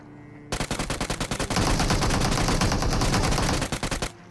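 Automatic gunfire in the mobile battle royale game Battlegrounds Mobile India, rapid loud bursts of shots starting abruptly, merging into sustained fire, then a few final separate shots before stopping.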